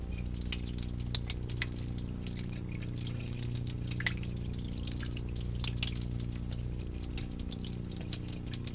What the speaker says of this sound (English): So what I'm going to do is I'm going to run this under cold water